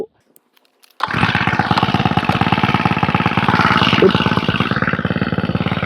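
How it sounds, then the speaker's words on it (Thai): A four-stroke lawn mower engine coupled to a centrifugal water pump starts after about a second of near silence, then runs loud and close with a rapid, steady chugging rhythm to the end. "ผมเดี๋ยวขออนุญาตติดเครื่องสักครู่"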